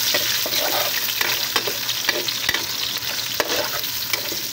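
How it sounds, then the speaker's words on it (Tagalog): Onions and garlic, with the garlic turning brown, sizzle steadily in a pan while a spoon stirs through them, scraping with repeated bursts over a constant loud crackle. "Haluin po natin."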